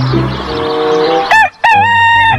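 Toy rooster letting out a loud electronic cock-a-doodle-doo, split by a brief pause, over a looping background melody, close and alone.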